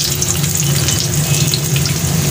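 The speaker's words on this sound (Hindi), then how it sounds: "मैं इसके अंदर थोड़ा सा लहसुन डाल के इसको भूनूंगी" Garlic sizzles steadily in hot oil in a pan, a loud, close, continuous frying hiss with no talking.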